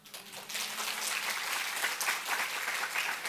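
A church congregation at a Sunday worship service breaks into dense, steady applause that holds evenly for a few seconds at moderate volume.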